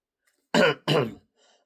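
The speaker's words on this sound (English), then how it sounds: "excuse my cough" Two sharp coughs in quick succession, close and fairly loud, followed by a faint rustle.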